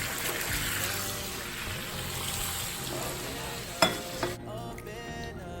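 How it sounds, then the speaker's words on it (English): Pork ribs fry in oil with garlic and shallot for Vietnamese sweet and sour ribs, giving a continuous close sizzle with stirring noises and a couple of sharp knocks near the end before the sizzle drops away. "stir it once in a while to make sure all the pieces of the meat get the oil from the garlic and the shallot"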